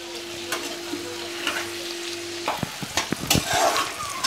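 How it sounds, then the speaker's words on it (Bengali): Onions frying in a pan for a chicken curry give a steady, close sizzle that runs on alone, with sharp clinks and scrapes of stirring joining in during the second half. "পেঁয়াজটা যতক্ষণ না লাল হচ্ছে ততক্ষণ আমি পেঁয়াজটাকে ভালো করে ভাজবো"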